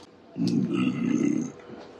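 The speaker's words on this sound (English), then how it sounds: "Excuse me for burping." One low, rumbling burp lasting about a second, close to the microphone.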